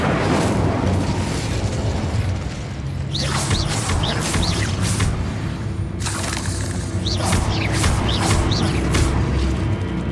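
Fire spell bursts and flaring flames scorch spider egg sacs in the Hogwarts Legacy game, a few distinct whooshing bursts over a steady rumbling background.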